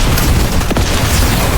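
A single firecracker bursts in a video game, a short boom rising out of dense, steady in-game noise.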